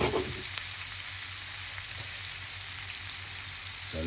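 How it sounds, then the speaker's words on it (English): Steak frying in a pan with garlic, butter and basil gives a steady, close sizzle and crackle that runs unbroken with no talk over it. "So let that fry up for a little bit."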